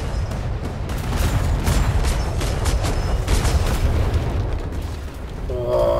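Ship cannons fire in a naval battle in the game Atlas, a dense run of booming, rumbling blasts overlapping into a continuous low roar, loud and close, with a brief rising tone at the end.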